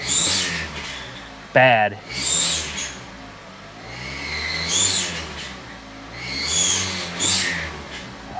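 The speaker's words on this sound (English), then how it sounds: "There's no belt, yet it squeals." A Kia Forte engine with no drive belt fitted gives off repeated high-pitched squeals in short bursts, with a louder chirp partway through and someone speaking briefly over the noise.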